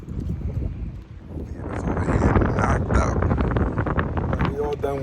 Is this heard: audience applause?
no